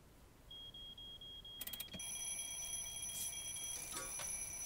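In the video game Little Inferno, an alarm clock fitted with a fire alarm gives a thin steady beep, then a quick clattering burst, then a bright sustained electronic ringing that continues to the end.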